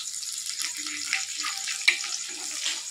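Onions and green chillies fry in a pan for pasta, giving a steady close sizzle with light crackles and an occasional louder pop, no voice over it.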